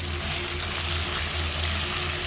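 Bitter gourd pieces frying in hot oil: a steady, even sizzle and bubbling crackle, close and continuous throughout, with no talking.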